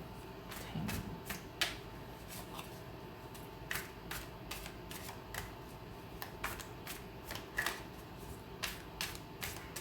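Tarot cards are shuffled close by in quiet surroundings, giving a run of crisp snaps and riffles at an irregular, quick pace with no talking.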